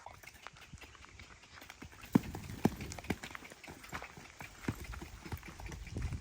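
Horse hooves clip-clop faintly and irregularly on the ground during training, several soft distant strikes with a couple of sharper thuds, over a quiet outdoor background.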